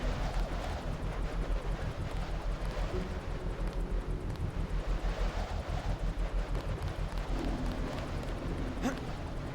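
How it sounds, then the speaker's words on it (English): Gusty night wind sweeps through a Hong Kong level of the video game Deus Ex Revision, a steady, broad whooshing rumble with a low throb that holds at an even level for the whole stretch, with no voices. "Windy night in Hong Kong."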